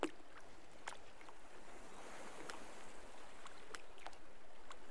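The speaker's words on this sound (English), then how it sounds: "Oh, there's a police boat here." A steady video game police boat engine drone with wash of water, fairly close and continuous, with faint clicks and no talking.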